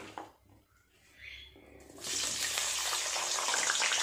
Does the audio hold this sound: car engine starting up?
no